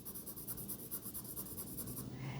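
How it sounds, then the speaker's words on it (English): A beige coloring pencil shading lightly on paper makes a soft, close, continuous scratchy rasp of quick back-and-forth strokes that stops shortly before the end. "the beige color, I'm going to just color in very lightly."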